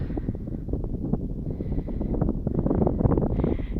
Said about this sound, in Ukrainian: І ще дуже сильний вітер, так що перепрошую за звук.